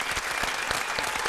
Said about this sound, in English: Invest Fest. Give that a round of applause as well.